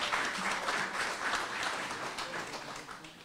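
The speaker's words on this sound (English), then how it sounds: "Let's give them a round of applause for all that they do for our county." Audience applauds county officials and school board members at a Central Florida community event, a continuous wash of many hands clapping at moderate distance, steady and fairly soft, tapering slightly toward the end.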